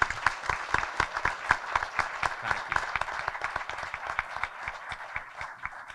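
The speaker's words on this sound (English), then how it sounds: "And let's give Councilmember Metzner a round of applause for his service, 25 years" A modest audience at a State of the City chamber event claps for a retiring council member, the individual claps distinct and fairly close, the applause steady then gradually thinning over several seconds.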